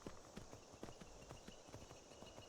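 Horse hooves clip-clop in the Skyrim video game, a steady rhythmic series of soft near hoofbeats over a quiet ambient bed.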